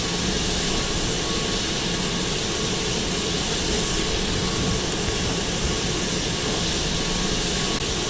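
Jet engines of a Boeing 767 in the FSX flight simulator roar steadily at takeoff power, a loud, continuous broadband rumble with a thin high whine, holding without letup for the whole stretch.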